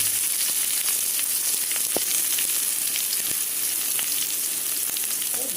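Mustard seeds, dried red chillies and onion frying in hot oil, a continuous close crackling sizzle with occasional sharp pops from the seeds.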